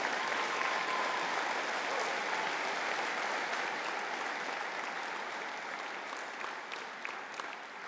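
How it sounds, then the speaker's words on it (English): An audience at a university conferring ceremony applauds the Masters of Science in Quality Management and Validation graduates, a broad, even wash of clapping from a large hall that fades slightly toward the end. "can we have a collective round of applause for the Masters of Science in Quality Management and Validation?"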